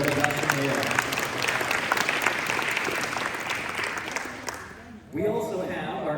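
An audience at a Safe Families charity dessert event applauds in a sustained wave of clapping that fades out, after which a speaker resumes talking.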